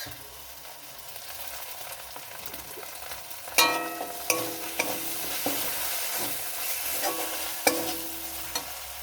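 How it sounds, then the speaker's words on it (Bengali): Food stirred and fried in a pan with tomato sauce and spice powder being mixed in, a low steady sizzle with sharp scraping clatters of the spoon against the pan, close and fairly loud, no voices. "এবার ভালো করে মিক্সড করে নেব"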